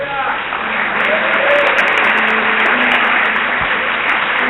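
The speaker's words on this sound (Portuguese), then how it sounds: "Você pode aplaudir o Senhor, querido?" Church congregation applauding during a worship service, a dense, loud, sustained wash of clapping from many hands, with a voice speaking faintly over it.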